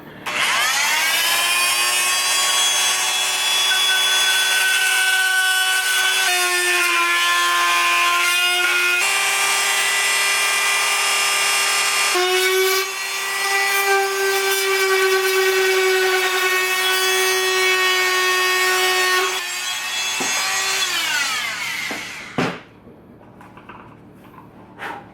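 A power tool cuts through a plastic headlight housing from a 1998–2002 Honda Accord, giving a loud, sustained, high-pitched whine that shifts in pitch as the load changes and then spins down near the end.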